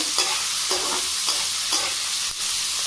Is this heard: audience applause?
no